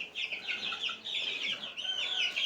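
A flock of chickens clucking and squawking continuously, fairly distant and steady, with a rooster-like call rising near the end.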